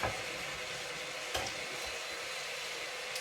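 Butter sizzles with cabbage in a hot pan, a steady, close broadband hiss with a brief louder crackle near the middle, no voices over it.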